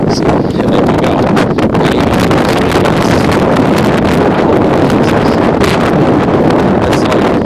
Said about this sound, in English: now the wind's blowing right at me